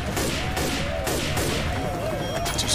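Dense, continuous gunfire while shooting zombies in a co-op video game, a loud unbroken barrage with overlapping shots and game effects, a voice partly under it.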